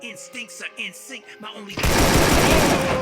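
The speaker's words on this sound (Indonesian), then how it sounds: "langsung tembakan di sini di lobby." Rapid automatic gunfire bursts in, loud and sustained, after a short stretch of game music and effects, in a multiplayer game lobby during a guild tournament.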